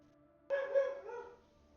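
Dogs in a video game let out a sudden close bark-like burst that tails off over about a second against a quiet steady backdrop.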